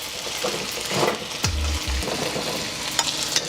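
Chicken pieces sizzle in hot oil in a wok for chow mein, a steady close crackling fry with a few brief knocks and scrapes of utensils against the pan partway through.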